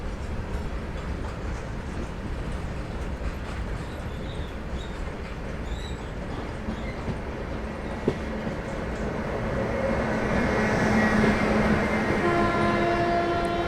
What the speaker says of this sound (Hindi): ये सही बात है, ये स्वराज एक्सप्रेस ही है।